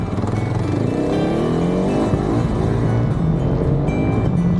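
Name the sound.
off-road vehicle engine revving on slippery ground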